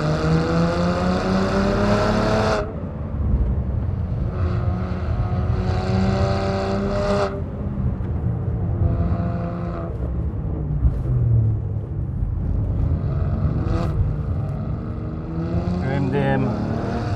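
A Kelleners KS1-RS car accelerates hard through repeated gear pulls, its engine note rising in pitch, cutting off sharply at each shift and climbing again, loud and close beneath a man's occasional speech.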